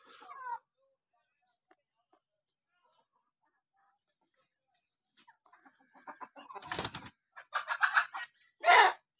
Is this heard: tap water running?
no